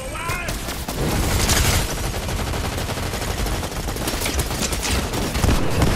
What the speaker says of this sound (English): You're shooting.